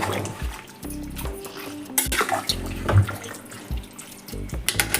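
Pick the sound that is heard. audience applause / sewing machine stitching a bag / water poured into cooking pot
water poured into cooking pot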